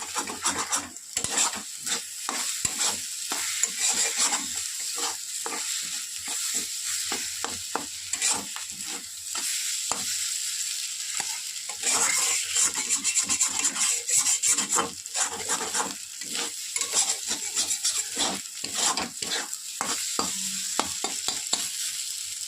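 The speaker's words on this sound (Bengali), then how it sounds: "দুটো ডিম একবারেই ছেড়ে দিয়েছি, দিয়ে সুন্দর করে ভাজা ভাজা করে নেবো।" Two eggs stir-fried together in a pan, a steady close sizzle with repeated scraping and stirring strokes of a utensil against the pan throughout, no voices.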